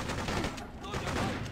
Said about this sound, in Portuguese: O maluco atirou no próprio colega ali